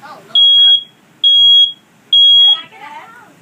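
Smoke alarm sounding during a bedroom fire-safety drill: three loud, piercing electronic beeps in a steady pattern, with people talking faintly between and after the beeps.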